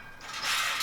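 A wrench ratchets on the downpipe bolts during a Cobb Stage 2 install, one short rising mechanical whir lasting under a second, close and alone.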